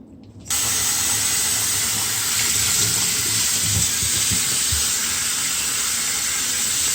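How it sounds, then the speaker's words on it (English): Tap water runs steadily into a sink while a turkey is rinsed, a constant hissing flow starting abruptly after a brief moment of quiet, with low handling bumps and splashes underneath. "I could be placing this under some water now to"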